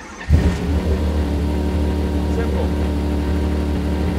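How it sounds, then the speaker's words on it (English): A McLaren F1 GTR Longtail race car engine cranks and fires up abruptly, then settles into a loud, steady, throbbing idle; someone speaks briefly. "Pump and ignition on. Neutral on the screen. And then without any gas,"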